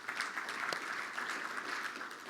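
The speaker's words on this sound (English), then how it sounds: "Ladies and gentlemen, a big round of applause for Zahir" Steady audience applause for a speaker at a 2019 supply chain conference, dense and even throughout, a hall full of clapping with no one talking over it.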